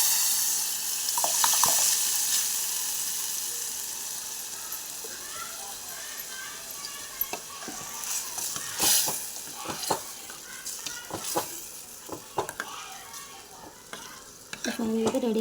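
Mustard seeds, cumin and curry leaves tempering in hot oil for a lentil dish with chukka greens: a soft sizzle with scattered sharp pops and crackles, and a few clinks of a spoon.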